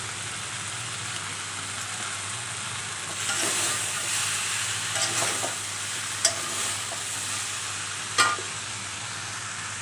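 Jackfruit curry with Kashmiri chilli powder being stirred in a pan, a soft continuous sizzle under a faint steady hum, with a few scraping stirs and sharper clinks near the end, no talking.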